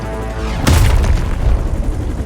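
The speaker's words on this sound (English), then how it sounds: "That explosion just shorted out half our systems." A loud explosion in the video game Marvel's Midnight Suns hits suddenly with a broadband blast, then a heavy low rumble carries on for over a second under a steady background drone.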